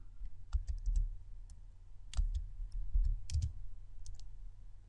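Keys clatter on a computer keyboard as a three-letter book abbreviation, chapter and verse are entered in a Bible program: scattered bursts of close, light clicks with short pauses, no voices.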